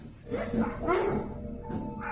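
A dog gives a few short, yelping barks and whines, moderately close but not loud, against a faint background hum.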